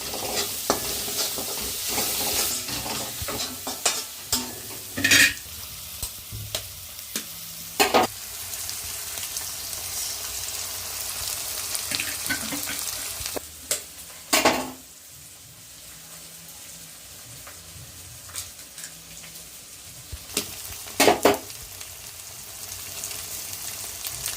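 Eggs cook in a hot pan with salt, a steady hissing sizzle punctuated by sharp clacks and scrapes of a spoon stirring at irregular intervals, close and unaccompanied by talk.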